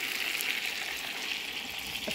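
Homemade tomatoes hitting a hot frying pan, giving a steady bright sizzle and crackle of frying with faint stirring, continuous and close.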